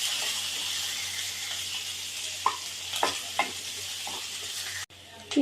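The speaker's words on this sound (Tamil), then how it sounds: "சீரகம் சேர்த்து சீரகம் பொரிஞ்சதையும் வெங்காயம், இந்த வெங்காயம் நல்லா வதங்கி வரட்டும்." Cumin seeds and onions fry in hot oil in a pan, giving a steady close hiss and sizzle with a few soft stirring scrapes and clicks, no voices.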